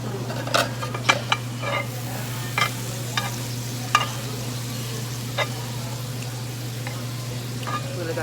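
Squid with kimchi cooks on a Korean BBQ grill, a steady sizzle running throughout beneath a low constant hum, punctuated by sharp clicks and taps of utensils at irregular intervals.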